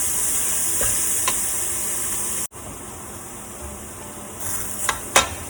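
Grated, blended and squeezed santol goes into a hot pan and sizzles steadily while being stirred, with a sharp drop partway through and a few louder scraping clinks near the end.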